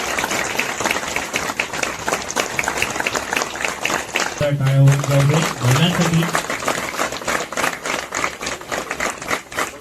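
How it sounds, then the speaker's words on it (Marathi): Steady crowd clapping at a Sai Baba temple ceremony, honoring the women present, continuous and fairly loud, with a voice speaking over it partway through. "टाळ्या होऊन जाऊ दे महिलांसाठी."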